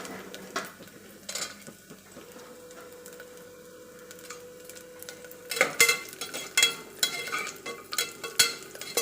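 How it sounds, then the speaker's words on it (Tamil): Cashews roasting with grated coconut in a pan for paruppu payasam, with a quiet stretch of faint sizzling, then sharp scraping and clinking stir strokes coming repeatedly and close. "இப்போ வந்து நம்ம எடுத்து வச்சுருக்கிற முந்திரியும் இந்த தேங்காவில் போட்டு நல்லா வறுத்து எடுத்துக்கலாம்"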